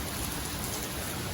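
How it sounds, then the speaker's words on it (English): Heavy rain drums steadily on a Lanshan 2 tent, a dense, constant hiss of countless drops with no breaks or voices. "But it's really quite rainy. It's really coming down."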